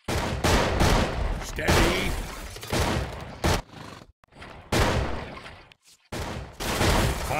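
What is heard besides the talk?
gunfire from units in the video game Battle Realms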